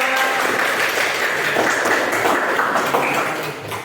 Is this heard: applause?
yes